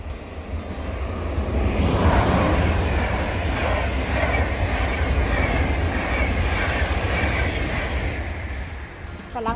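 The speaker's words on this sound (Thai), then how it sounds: "รถไฟกะมา" A train rumbles past nearby, a steady heavy roar with broadband rattling that swells and holds for the whole stretch.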